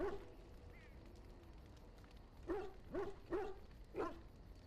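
Dog barking in Dragon Age: Origins at the party's camp: a faint whimper early on, then four distinct barks in a quick, even rhythm at moderate distance over low ambient background, with no talk.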